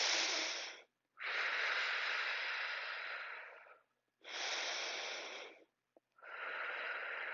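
Slow, deep breathing during a yoga pose, close and clear: long airy inhales and exhales in alternating phases separated by brief silent pauses, with no talking.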